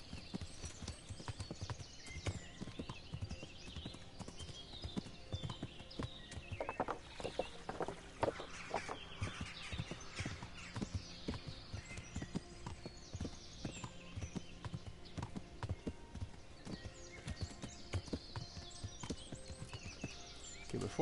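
Horse hooves clip-clop steadily in Kingdom Come: Deliverance, a medieval video game, as a ridden horse moves along at a faint, even pace with no voices over it.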